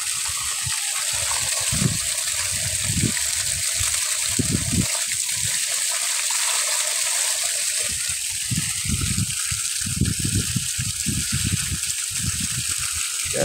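Rushing irrigation water flowing steadily nearby into a rice paddy in summer, its gush swelling and easing, with someone talking intermittently over it.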